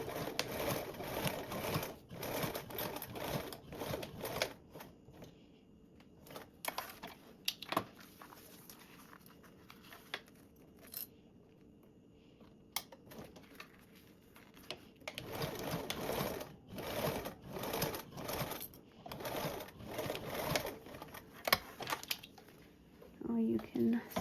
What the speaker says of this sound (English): sew these together with a 3/8 seam allowance